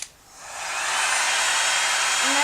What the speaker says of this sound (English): connect your hairdryer or heat gun to the power